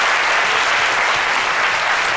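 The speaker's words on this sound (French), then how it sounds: "merci pour les applaudissements" Studio audience applause on a talk show, dense loud continuous clapping close by that fills the whole moment without any voices.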